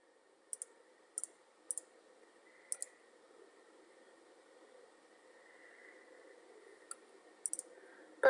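Sharp computer mouse clicks, mostly in quick pairs, come at irregular intervals during SQL database work in Spotfire, crisp and close over a low steady hum, with a louder burst at the very end.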